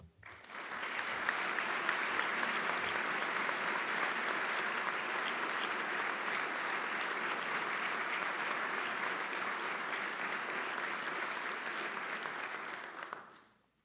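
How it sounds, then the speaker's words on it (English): A large crowd applauds steadily for about twelve seconds, a dense, even wash of clapping that swells in quickly and then cuts off. "give them a well-deserved round of applause"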